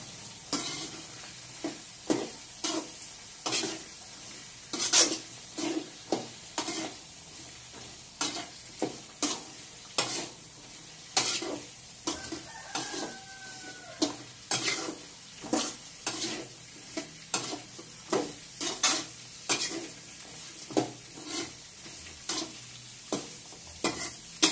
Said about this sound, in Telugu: క్యాబేజ్ వేసుకొని కలిపెట్టుకున్నాం.